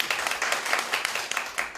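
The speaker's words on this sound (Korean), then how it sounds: "큰 박수 부탁드립니다." An audience at a lecture on realist international politics greets the speaker with loud, continuous applause, a thick, even wash of clapping.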